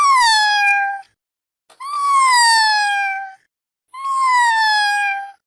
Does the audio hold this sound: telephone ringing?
no